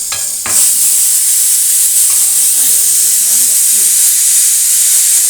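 Ponnaganti greens cook loudly in a pan, with a constant bright steamy hiss and sizzle dominating the whole stretch and a few spoon knocks near the start; no speech.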